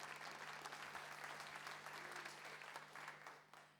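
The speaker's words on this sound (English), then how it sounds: "if you give her a loud round of applause" An audience at the Scots Language Awards 2023 breaks into applause, a dense, even wash of clapping that holds for a few seconds and then begins to thin and fade.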